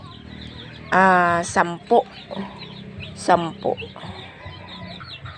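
Native chickens and chicks cluck in short bursts, with a couple of louder calls close by over a low farmyard background, while someone talks in between.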